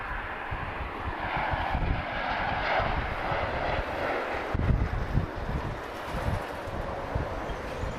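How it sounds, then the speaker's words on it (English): Aircraft engine roar from a plane, likely an Embraer jet, at Lisbon Airport: a steady, fairly loud broadband rumble that swells slightly midway, with wind buffeting the microphone and no talking. "I do love these Embraers, though."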